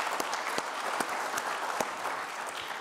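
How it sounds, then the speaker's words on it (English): An audience applauds during a county supervisor's talk about local business and property taxes: continuous, even clapping from a sizable crowd, fairly close and unbroken, with occasional sharper individual claps standing out. "I thought I heard an applause"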